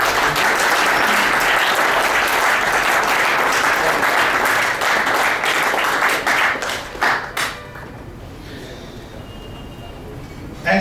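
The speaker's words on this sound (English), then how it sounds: "let's give a big clap to this." A large audience at a student entrepreneurship conclave bursts into loud, sustained applause lasting about seven seconds, then it thins out and fades to quiet room tone.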